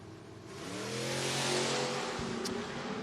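At a footbrake drag race, a 1969 Camaro and a 1994 Mustang launch together. Engines climb in rising revs toward a loud roar with a brief sharp crack, heard close and without speech.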